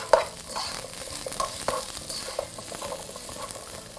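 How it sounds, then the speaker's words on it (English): Onions sautéing in a pan, with frequent spatula stirs and scrapes over a soft steady sizzle, close up and without talk. "So proceed to saute those in your pan."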